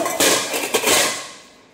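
New metal kitchenware, including an iron pan and a slotted ladle, clinks and clatters in a few close, bright knocks that ring briefly and fade away.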